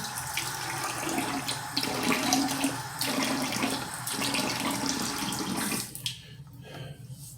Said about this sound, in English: time to rinse off the oven